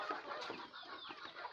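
Desi chickens on a farm cluck and chatter steadily at close range, several birds overlapping in a continuous busy flock sound with no talking.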